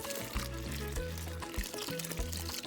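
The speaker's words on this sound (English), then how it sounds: "add water, the warm water" Warm water is poured into an okpa mixture in a home kitchen, a steady liquid pour with soft gurgling and splashing, close and fairly quiet.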